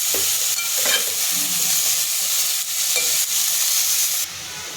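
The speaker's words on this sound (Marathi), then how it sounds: "जे आपण भाजी कट करून घेतलेली स्वच्छ धुवून घेतले हे टाकून आपण त्याच्यामध्ये परतून घेऊयात" Cut vegetables sauté in a hot pan with a loud, constant sizzle, punctuated by several scraping stirs and knocks of a utensil before the sizzle drops suddenly quieter at the end.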